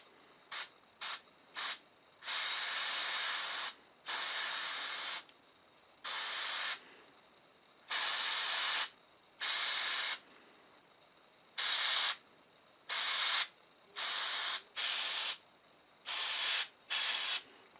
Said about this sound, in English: I'm using an airbrush for the starting part